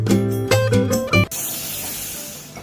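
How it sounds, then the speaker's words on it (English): An agricultural drone spraying pesticides over a farm field gives a steady, close, broadband hiss that takes over after a short run of tonal sounds at the start. "Instead of spraying pesticides by hand, this farmer is using an agricultural drone."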